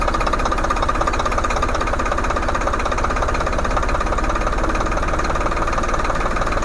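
Tractor diesel engine idling steadily while the fuel pump's RPM adjustment nut is tightened, a loud, close, rapid knocking chug with a constant even rhythm and no talking.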